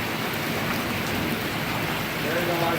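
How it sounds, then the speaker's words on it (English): Steady rain pouring down during a Honda GoldWing motorcycle ride on the Tail of the Dragon road, a dense unbroken hiss with dull low rumble underneath, loud and constant for the whole stretch. "Well, it's raining again."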